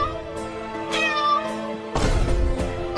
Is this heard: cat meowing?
yes